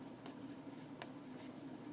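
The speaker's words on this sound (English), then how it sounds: "So Sarah, you can write it on our paper" Soft scratchy pencil strokes on paper over a steady room hum, with a couple of brief brushing sweeps, fairly close and quiet.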